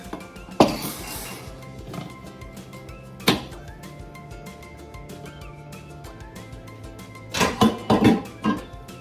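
A Southern-style five-flavor pound cake is flipped out of its metal pan, giving a couple of clanking thuds followed by a burst of rattling pan knocks, close up, with no talk.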